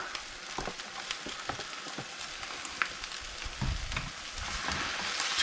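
Couple-day-old leftover rice goes into a hot skillet for fried rice, a quiet steady sizzle with light scattered crackles that swells slightly near the end.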